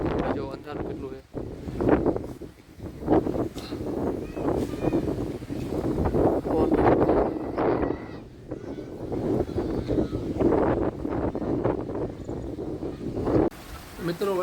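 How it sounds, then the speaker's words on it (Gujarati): Strong wind and rain batter an outdoor spot with gusty, roaring buffets against the microphone, rising and falling throughout while a person talks over it. "વરસાદ ફૂલ ચાલુ થઈ ગયું છે ફૂલ પવન ને વરસાદ જોવો તમે"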